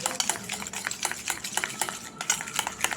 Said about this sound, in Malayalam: കാപ്പിപ്പൊടിയും മുട്ടയുടെ വെള്ളയും കൂടെ നല്ലപോലെ മിക്സ് ആവണം.